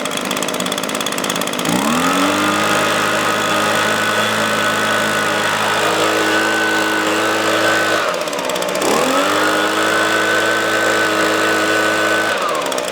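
A small gas leaf blower engine idles loudly and steadily nearby, its buzzing drone dipping and recovering twice as the engine speed briefly shifts.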